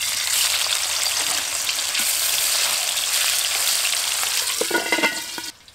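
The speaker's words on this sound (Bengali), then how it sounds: "বন্ধুরা আপনারা হয়তো আওয়াজটা শুনে বুঝতে পারছেন, প্রচুর পরিমাণে ফাটছে, আর ঢাকনাতে বোঝাই যাচ্ছে এত পরিমাণ তেলটা ফাটছে।" Magur catfish frying in mustard oil under a lid, a dense, loud, steady crackle of spattering oil that eases slightly and then drops away abruptly at the end, with no voices.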